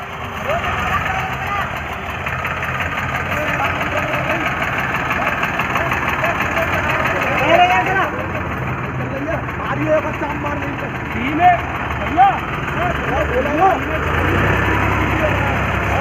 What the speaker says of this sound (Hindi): ट्रैक्टर बिल्कुल सीधा चल रहा है कोई दिक्कत ना है